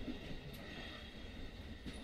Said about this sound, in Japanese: 私たちの間に、列車の音だけが響き渡る。